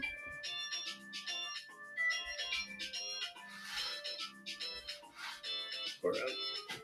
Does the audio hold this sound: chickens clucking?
no